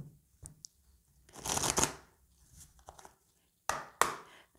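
An oracle card deck is shuffled and cut by hand: a soft riffle burst, brief quiet, then two sharp taps and flicks of the cards, close and fairly quiet with no talk.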